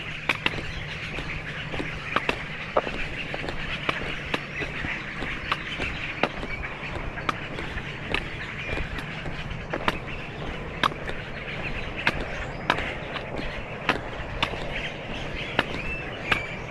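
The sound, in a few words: flock of birds calling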